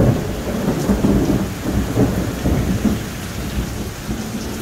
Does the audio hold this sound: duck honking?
no